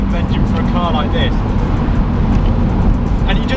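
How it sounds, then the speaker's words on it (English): A high-mileage BMW engine runs steadily at close range, a loud continuous low rumble with some road or traffic noise mixed in; a person speaks over it now and then. "you can tell just from the sound of the engine that it will just go and go and go forever"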